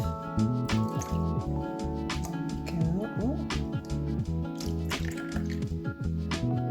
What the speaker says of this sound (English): I'm going to squeeze some of that water off.